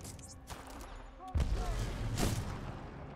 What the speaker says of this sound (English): Oh, it's a shot grenade.